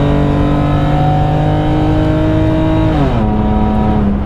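A BMW 325xi engine revs high and steady, a loud close drone holding near 6,500 RPM before the pitch drops as the throttle eases, with no voices.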